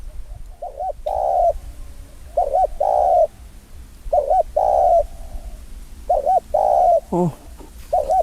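A young male spotted dove at training repeats its cooing call in short phrases, clear and fairly close. The calls come in a steady rhythm with brief pauses between bursts, over light outdoor ambience.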